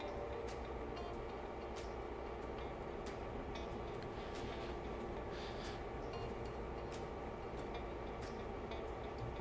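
A passenger train of DMU demotorized coaches pulled by a 44 or 45 ton Davenport switcher rumbles along steadily, with a low, continuous engine drone and occasional faint clanks over a quiet, even background.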